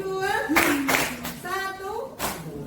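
A classroom of students claps on cue, a few sharp group claps landing in rhythm between bursts of voices chanting along.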